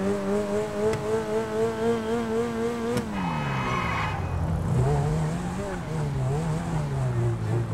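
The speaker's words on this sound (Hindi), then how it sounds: "आप आवाज़ सुन सकते हो गाड़ी की" Engine drone from a car in the video game Adrenaline Rush, its pitch rising and falling steadily, with a brief screech midway and a voice speaking over it.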